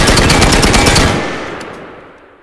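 Fully automatic rifle fire in a video game rips out as a loud, rapid burst of shots for about a second, followed by a decaying echo tail with no talking.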